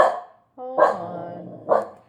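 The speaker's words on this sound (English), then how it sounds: "sorry, my dog is barking" A dog barks loudly and close by, a few sharp barks with a brief whining tone between them.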